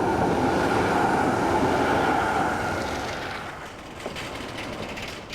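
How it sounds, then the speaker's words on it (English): A tram rolling through the streets of Ghent, Belgium, a steady loud rumble of wheels on rails that eases off, followed by lighter clanks and rattles, close by with no voices. "or you could hop on a tram."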